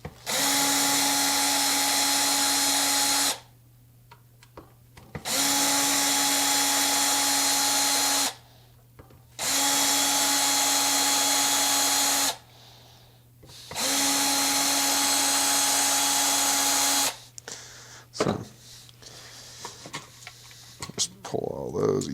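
A power drill backs screws out of a vintage Squier by Fender Stratocaster in four long, loud whirring bursts separated by short pauses, with clicks and handling noises and a voice speaking in between.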